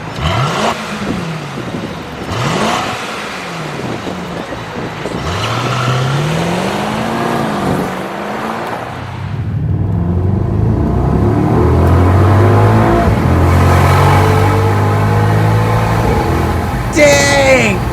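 A 2021 Mercedes-AMG GLE 63 S SUV with an electric motor assisting its turbocharged engine accelerates hard, the engine note climbing in repeated sweeps through several gearshifts before building into a steady, loud roar.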